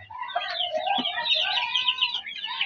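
Chicks cheeping in a farmyard, a continuous high twittering of many small peeping calls overlapping one another, fairly close and steady.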